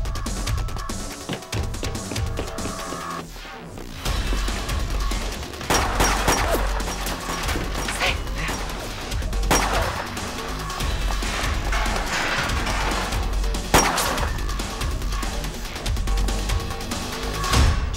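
Gunfire erupts in a Hong Kong TV drama action scene, with several loud bursts of shots scattered over a busy, noisy background.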